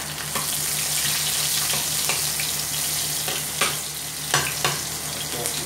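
Ginger fries in hot oil for squid adobo in coconut milk, a steady close sizzle with occasional spoon clicks and stirring scrapes, no voices.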